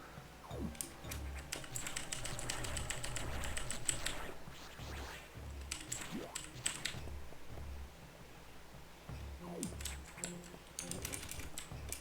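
A computer keyboard is hit hard during play of Metroid Fusion, with rapid clusters of loud clacking keystrokes in bursts separated by short pauses, close and clear with no talk.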